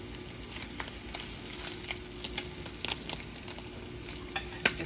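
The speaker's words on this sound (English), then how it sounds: "we're going to start flipping this bacon" Bacon sizzles quietly in a pan, a soft continuous crackle broken by small taps and scrapes as the strips are turned, with no talking.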